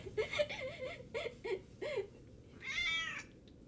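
A pet cat meows several times in a row, each call rising and falling, followed by a longer, drawn-out meow after a short pause; the cat sounds close, with no voices.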